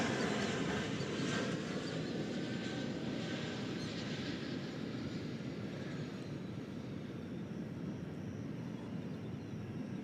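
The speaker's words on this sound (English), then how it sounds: "There's one final look at the Korean Air Dreamliner headed to its place." Korean Air Dreamliner rolling toward its parking spot at Terminal D, DFW Airport, a steady distant jet engine roar with broad rumble, unchanging and fairly faint throughout.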